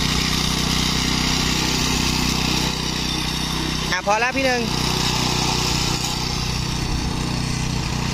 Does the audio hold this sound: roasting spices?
no